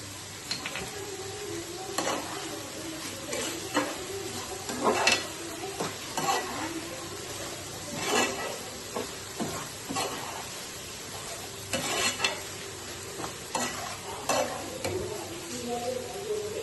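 Green chillies stir-fry with baby corn in a hot pan, giving a steady close sizzle broken by repeated scraping, stirring knocks of a spatula against the pan.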